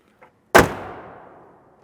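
The hood of a 2010 Range Rover swings down and shuts with a single sharp, close thump that rings out briefly, preceded by a faint click.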